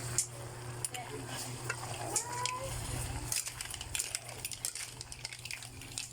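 Squid sizzles steadily in a hot frying pan while a utensil stirs and scrapes it, with intermittent clinks and scrapes over a constant low frying hiss.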